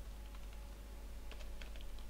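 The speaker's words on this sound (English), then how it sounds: "I keep typing search." Light typing on a computer keyboard, a quick run of soft, close key clicks over a low steady hum.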